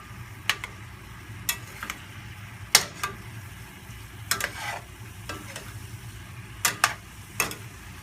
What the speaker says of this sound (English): So I'm just going to saute this for a couple minutes